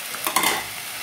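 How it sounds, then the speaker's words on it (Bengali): Prawns, fried potatoes and tomato hit a hot pan, giving a brief sizzle with a couple of quick stirring scrapes near the middle, heard close up. "এবারে ভাজা আলুগুলো আমি ঢেলে দিচ্ছি। টমেটোটা আমি দিয়ে দিলাম, এই সময় ভাজা চিংড়িগুলো দিয়ে দিলাম,"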